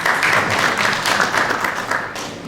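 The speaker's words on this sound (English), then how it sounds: "We can give it a round of applause." Audience applause at a sustainable real estate financing event, a brief burst of dense, fairly close clapping that stays strong, then eases slightly toward the end.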